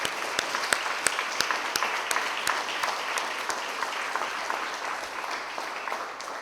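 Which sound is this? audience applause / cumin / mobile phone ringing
audience applause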